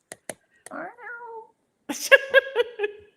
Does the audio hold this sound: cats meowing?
yes